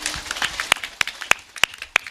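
A small audience at a religious talk gives a few scattered claps, sharp isolated slaps spaced unevenly after soft murmuring and light shuffling.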